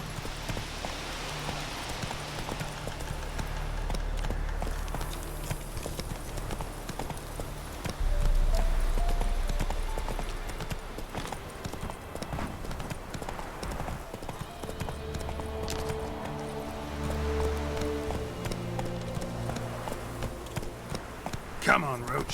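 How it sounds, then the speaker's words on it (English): A horse's hooves clip-clop steadily on the ground in the video game The Witcher 3, with a surge in the middle under continuous game ambience and music. "Whoa there, Roach."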